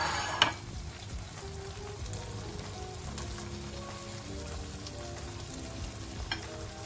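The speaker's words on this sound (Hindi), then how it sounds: "ये मैंने सारी हरी मिर्चें डाल दी हैं" Whole slit green chillies fry in oil in a lamb karahi gosht, a soft, continuous crackling sizzle with a faint clink at the start, heard fairly quietly.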